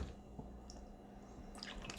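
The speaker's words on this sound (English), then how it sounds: "And we'll go ahead and add some water." Water is poured into a small water dish inside a tarantula sling enclosure over moist substrate, giving a faint, brief trickle with a few soft drips and a squishy splash in a quiet room.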